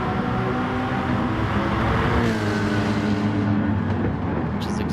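A racing video game car storms down the straight at Spa toward the first corner, its engine droning loud and close with a steady high-revving tone, then easing off slightly near the end as a voice talks over it.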